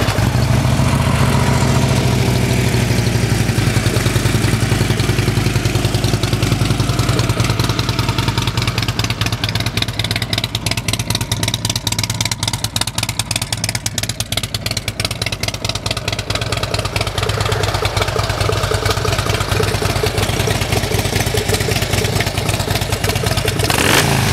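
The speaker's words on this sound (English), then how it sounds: "Revs up nice and clean, real healthy sounding motor." A Harley-Davidson Ultra Limited FLHTK motorcycle engine idles with a loud, steady rumble, then revs up and settles repeatedly, close by with a clattering mechanical edge.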